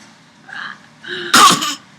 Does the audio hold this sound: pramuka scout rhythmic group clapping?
no